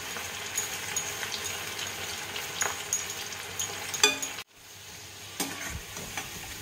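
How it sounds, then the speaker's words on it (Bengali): Raw papaya chips deep frying in hot oil, a dense continuous crackling hiss with scattered pops and a couple of stirring knocks, then a brief drop before the bubbling resumes, close and alone. "এটা ভাজবো একসাথে বেশি ছাড়বো না অল্প অল্প করে আমি এটা ভেজে নেবো"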